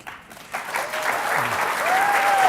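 Audience applause at a policy forum, starting sparse and swelling into fuller, sustained clapping, with a faint voice underneath.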